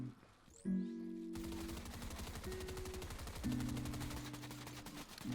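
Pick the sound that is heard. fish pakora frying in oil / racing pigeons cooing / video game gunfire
video game gunfire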